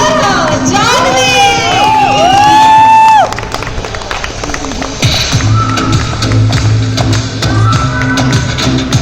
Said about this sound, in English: Let's cheer her, Janvi!